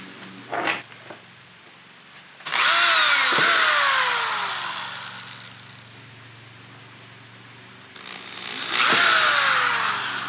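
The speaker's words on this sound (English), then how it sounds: "We're going to use a 5/16 bit and just drill right through." A power drill with a 5/16 bit drills out rivets, whining in two long bursts, spinning up and winding down, with a short mechanical tap before the first and a quieter hum between.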